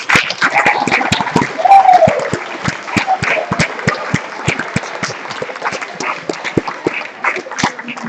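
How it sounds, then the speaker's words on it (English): Applause from the audience at a 4-H state leadership conference, a steady dense clapping that fills the whole stretch at moderate loudness, with scattered crowd noise beneath. "give them a warm round of applause"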